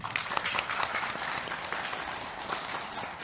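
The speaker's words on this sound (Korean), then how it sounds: "박수 한번 쳐주세요" An audience at a Buddhist lecture on the Lotus Sutra breaks into steady, dense applause, many hands clapping together for a few seconds at a moderate distance.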